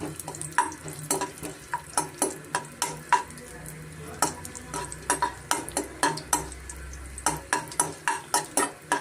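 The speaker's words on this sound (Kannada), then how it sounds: "ದ್ರಾಕ್ಷಿ ಸೇರಿಸ್ಕೋಣ ತುಪ್ಪದಲ್ಲಿ ಸ್ವಲ್ಪ ನಾವು ಫ್ರೈ ಮಾಡ್ಕೊಬೇಕಾಗುತ್ತೆ ಮೀಡಿಯಂ ಫ್ಲೇಮಲ್ಲೇ" Cashews and raisins fry in ghee on medium flame for bottle gourd halwa, with repeated rhythmic spoon knocks and scrapes against the pan over a low sizzle, close and without talking.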